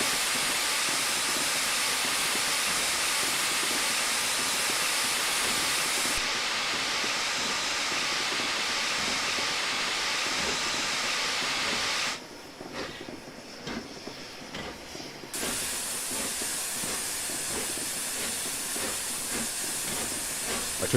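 Loud, continuous steam hiss from the open cylinder cocks of the Flying Scotsman locomotive in a train simulator game, briefly dipping and thinning before resuming at full strength.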